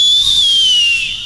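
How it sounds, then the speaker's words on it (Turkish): A person whistles one long, loud, steady note that glides slowly downward and fades slightly near the end, heard alone with no talk over it. "Canım benim, nasıl ıslık çalıyorsun öyle sen?"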